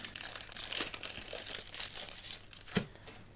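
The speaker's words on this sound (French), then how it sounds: "je vais mettre la carte promo en sleeve" A Pokémon promo card slid into a plastic sleeve gives a quiet run of crinkling, rustling plastic with a few sharper crackles, close and alone.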